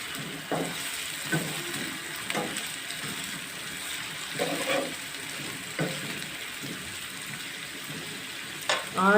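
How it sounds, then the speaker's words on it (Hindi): Ginger and garlic fry in a pot for chicken Kabuli pilao, with carrots about to go in; a low steady sizzle under repeated utensil scrapes and stirs, with faint voices in the background. "अदरक लहसुन फ्राई हो रहा है, आप ये देख सकते हैं।"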